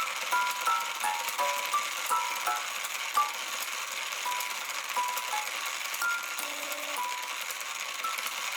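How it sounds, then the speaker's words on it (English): Homemade triple barrel music box built partly from a salvaged printer, playing with both motors running at once: steady bright plinking tines over a continuous mechanical whir and rattle, close and moderately loud, no talk. "Though it does sound pretty cool with both motors on simultaneously."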